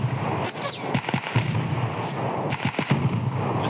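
Gunfire in the shooter video game Escape From Tarkov, a rapid string of sharp cracking shots, some near and some distant, with bullets snapping past in uneven bursts over steady background noise.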